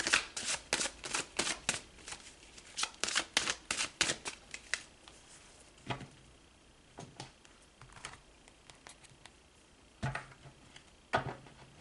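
Crisp riffling bursts of a tarot deck being shuffled, fast clusters of card snaps in the first seconds, then sparser single riffles and taps, close and fairly quiet.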